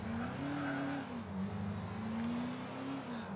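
Mafia car in a GTA video game, a loud engine tone rising and falling as the car accelerates past, alone with no talking.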